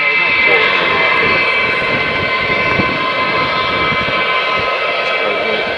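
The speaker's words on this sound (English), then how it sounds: "We've got a long way to taxi down through the runway." An Avro Vulcan XH558 jet bomber taxis at Robin Hood Airport, Doncaster, a loud, steady, close engine roar with a high whine that holds unbroken throughout, a voice faintly underneath.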